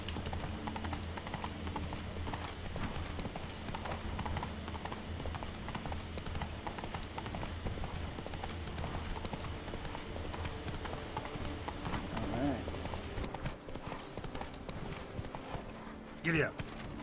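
Steady, rapid horse hoofbeats clip-clop throughout a ride in The Witcher 3: Wild Hunt, Blood and Wine, heard at a moderate level under game ambience and occasional effects.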